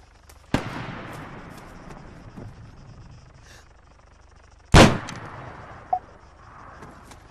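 Sniper rifle shots in the video game Arma 3 ring out as two sharp, loud cracks several seconds apart, each trailing into a rolling echo, followed by a fainter single report, over a quiet outdoor ambience.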